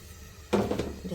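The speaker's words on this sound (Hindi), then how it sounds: "और मैं इसमें डाल दूँगी पानी," Water is poured by hand onto rice that has just been washed but not soaked, in a home kitchen cooking rice alongside butter chicken; a short, close splashing pour starts midway and continues to the end.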